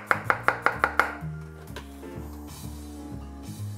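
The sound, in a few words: chopping garlic cloves with a knife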